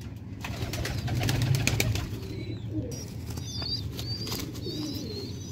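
Sialkoti pigeons coo in a low steady murmur while wings flap in bursts and higher chirps flicker through, a busy close flock with no talk.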